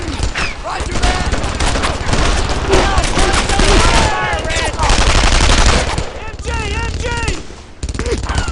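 Heavy machine gun fire in the World War II shooter Brothers in Arms 2, loud and nearly continuous, with sustained bursts under shouting soldiers' voices throughout.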